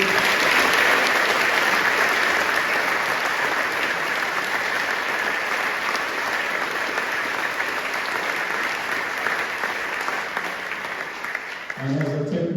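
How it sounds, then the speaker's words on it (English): Sustained audience applause for choir mentors, a dense, even wash of many hands clapping continuously for over twelve seconds before tapering slightly at the end. "Huge round of applause for the mentors"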